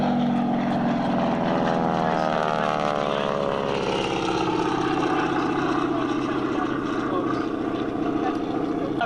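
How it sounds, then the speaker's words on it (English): A P-40 propeller warplane roars overhead at an air show, its engine pitch sweeping downward as it passes, loud and sustained, with a crowd or announcer faintly beneath. "here comes the P-40 screaming overhead"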